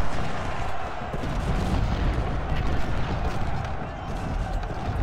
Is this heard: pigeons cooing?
no